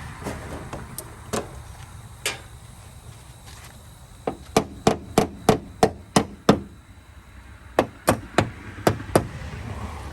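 Sharp hammer strikes on a metal panel during rust repair of a Volkswagen Vanagon Westfalia ring out, first scattered, then in a quick steady run of blows with a short pause partway through, fairly close.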